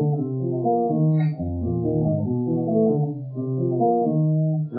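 A clean, mellow electric guitar plays a flowing single-note jazz lick with a few chromatic non-chord passing notes, alone and close.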